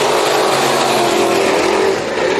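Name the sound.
race cars in heat race at Bakersfield Speedway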